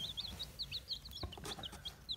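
Young chicks in a warmed brooder box with a feeder, waterer and heat lamp, giving repeated high chirps and peeps in a steady scattered pattern, close and fairly faint, with no talking.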